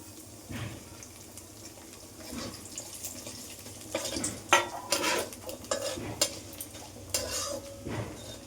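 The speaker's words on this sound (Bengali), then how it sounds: "চালটা একটু ভাজতে হবে।" Rice frying in a pan with tempering spices while being stirred, a steady sizzle broken by scraping strokes and knocks of the spoon against the pan that grow busier and louder partway through.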